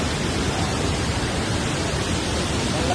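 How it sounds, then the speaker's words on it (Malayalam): Haritherthangara waterfall in Kannur, Kerala, a loud, unbroken roar of falling water that fills the scene evenly, with no talk. "ഇതാണ് വെള്ളച്ചാട്ടത്തിന്റെ വ്യൂ എന്ന് പറയുന്നത്"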